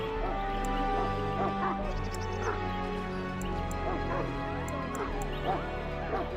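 A Mabari warhound from Dragon Age barks and whimpers in yips over a steady low hum and game music, moderately near, with talk alongside.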